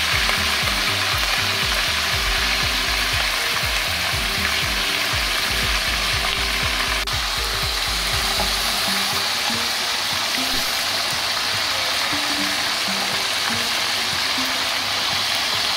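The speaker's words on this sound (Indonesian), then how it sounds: "Dengan cara teknik menggoreng 2 kali cumi ke dalam minyak yang benar-benar panas" Squid frying a second time in very hot oil: a dense, continuous sizzle and crackle, loud and steady throughout, with bubbling that thins slightly in the second half.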